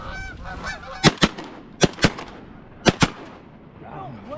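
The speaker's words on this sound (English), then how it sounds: "Took me 3 shots on that one goose." Goose hunt with honking geese and shotgun fire: three pairs of sharp, loud shots ring out in quick doubles, while geese honk before and after them, near and clear over outdoor background.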